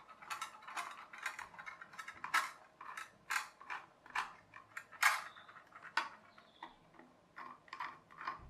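A screwdriver turns small screws out of an RC hovercraft, a Fuhai Jingpin CRS ST, during a teardown. It makes a close, quiet series of ratcheting clicks and ticks in irregular bursts, with short pauses between turns.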